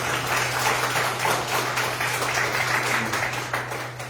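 A party members' meeting in a second-floor room in Jeju gives a candidate a round of applause, a dense, steady wash of clapping over a constant low hum.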